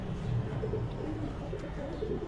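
Low, soft cooing of pigeons repeating close by, over a faint background hum.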